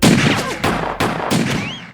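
Several loud gunshots crack in quick succession, about four sharp bursts within two seconds, each followed by a short echoing tail, close and forceful.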